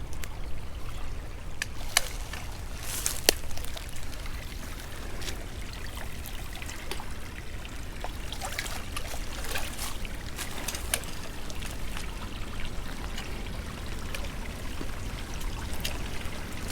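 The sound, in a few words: water flowing in a creek at a crossing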